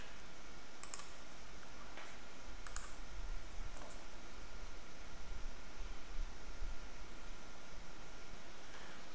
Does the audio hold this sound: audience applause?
no